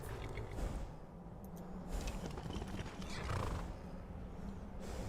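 A horse in Skyrim whinnies under a dense, steady bed of game ambience, with hoof clatter and creaking mixed in, heard close and fairly loud.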